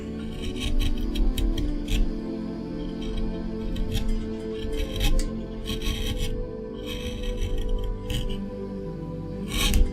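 A big gouge carving wood on a hand-carved figure gives repeated close scraping and shaving strokes in irregular bursts over a low background hum.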